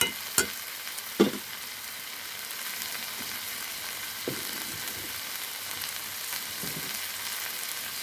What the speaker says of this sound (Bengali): এই যে আমি ছোটো মাছ দিয়ে ঢ্যাঁড়স রান্না করছি।